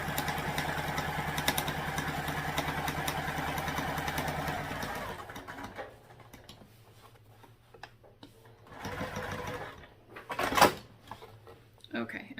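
A sewing machine stitches fabric in a steady rapid whirring run for about five seconds, then stops; afterward come quieter handling clatters and a sharp knock.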